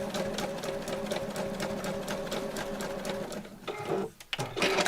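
Domestic sewing machine stitching fabric in a fast steady whirring rhythm, close, with a brief pause and restart near the end, under faint background voices.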